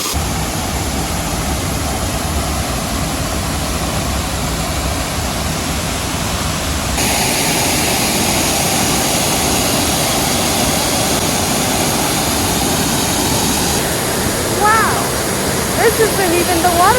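Water rushes continuously over a small cascade just upstream of Silver Falls in Australia's Atherton Tablelands, a dense steady roar heard up close with a few faint high chirps near the end.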